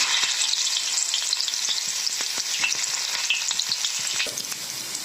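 Steady, loud sizzling of crushed garlic frying in hot mustard oil in a wok, with continuous crackling and spitting and no voices.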